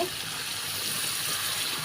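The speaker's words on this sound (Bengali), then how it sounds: "এখন আমি এখানে অল্প পরিমাণে একটু পানি দিয়ে দেব" Steady broadband rush of water as a little water is poured continuously into a pan of frying spices, close and moderately loud with no talking.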